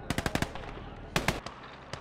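Machine gun fire in the video game Call to Arms: Gates of Hell, with a quick burst of rapid loud shots, then a shorter second burst and a single later shot.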